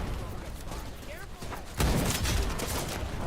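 Gunfire in the video game Wild Assault: muffled distant shots in the first half, then a sudden loud, dense burst of gunfire that keeps going to the end, with voices talking underneath.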